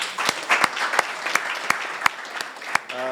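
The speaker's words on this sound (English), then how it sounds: "Let's give them a round of applause." A room's audience applauds a panel at an elections discussion event, dense clapping with a few loud, distinct claps punctuating it, fading as a voice begins at the very end.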